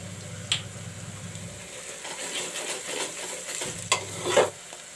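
Onions frying in a pan for a mutton curry crackle with a soft sizzle as they are stirred, with a few sharp utensil taps and scrapes close by, and no talk.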